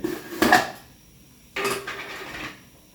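A metal spoon scrapes and clinks against a pot of Thai sour curry as shrimp paste is stirred in. Two short, close bursts of stirring are separated by a pause.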